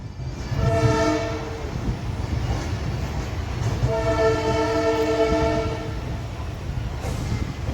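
A WDG 4D diesel locomotive at Rameswaram station sounds its horn in two long, loud, sustained blasts with a short gap between them, over a steady rumble of engine and station noise.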